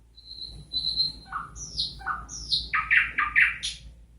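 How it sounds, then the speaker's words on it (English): A nightingale's song plays from a smart speaker, a run of bright whistles, chirps and rapid warbled trills rising in intensity over about four seconds, close and clear with no talk. "This is a nightingale."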